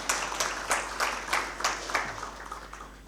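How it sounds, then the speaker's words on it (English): Audience applause at a winter school event at Victoria Falls, a few bursts of clapping with sharp accent peaks rising and fading over a few seconds, moderately loud and without speech. "Come on, a round of applause."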